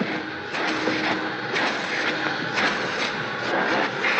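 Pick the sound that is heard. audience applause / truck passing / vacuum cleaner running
vacuum cleaner running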